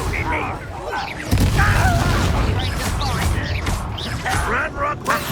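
A Confringo blasting spell goes off in Hogwarts Legacy: a sudden loud, booming burst about a second in, followed by rumbling crashes and clattering amid game effects, with voices speaking over it.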